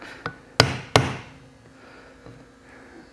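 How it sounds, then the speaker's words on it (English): A small hammer taps on a plastic injection mold in a workshop, a light tick and then two sharp metallic knocks close together, each ringing briefly before fading, followed by a couple of faint taps. "beyond what I'm doing with my little wimpy hammer"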